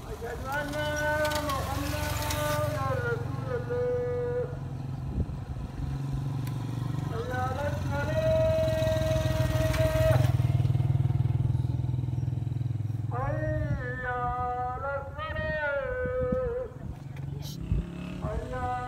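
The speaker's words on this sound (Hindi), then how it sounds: "यहाँ पर अजान की आवाज़ इतनी खूबसूरत लग रही थी" Azan call to prayer carried over open air in Rose Valley, Bhimber, long sustained melodic vocal phrases rising and wavering, somewhat distant under steady low rumbling background noise.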